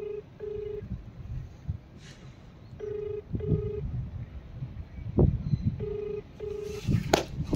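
An outgoing phone call rings unanswered: a ringback tone sounds in repeated pairs of short beeps, fairly faint, with scattered clatter and knocks around it.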